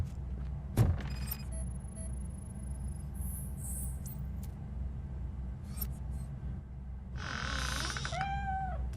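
A cat in the RoboCop video game lets out a drawn-out, wavering meow near the end, after a sharp knock and some brief game noises over a low background hum.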